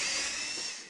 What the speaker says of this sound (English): Drill a hole in the front above the doorway for the name tag.